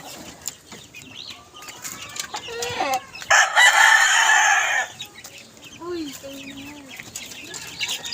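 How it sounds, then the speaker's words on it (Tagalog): A rooster crows loudly close by, one long strained call, with clucking and chirps around it and faint talk. "Yan, manok nila yan."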